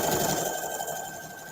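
A home sewing machine stitching a seam on a craft project, a steady continuous whir with a high mechanical buzz, close and fairly loud for a short stretch.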